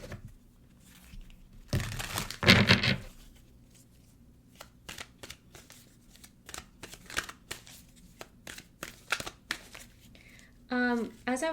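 Oracle cards shuffled by hand in short bursts, a thick riffle early on followed by lighter scattered flicks, close up and quiet.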